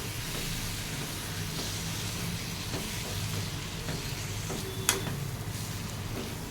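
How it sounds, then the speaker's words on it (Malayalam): Chopped mango being stirred into a hot mango pickle mixture in a pan with the gas turned off, a steady low sizzle under soft scraping strokes, with one brief sharp clink near the end. "നമ്മൾ അരിഞ്ഞു വെച്ചിരിക്കുന്ന മാങ്ങ ഇട്ട് ഇളക്കി കൊടുക്കുക"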